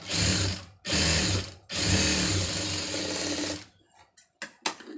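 A sewing machine stitches a fabric patti in three loud, rapid mechanical bursts separated by short pauses, the last one longest, followed by a few quiet clicks and knocks.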